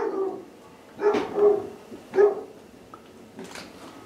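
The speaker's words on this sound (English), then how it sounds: "Dogs not included." Dogs inside a house give a few sharp barks, spaced with short gaps, with faint whimpering between them, at moderate distance.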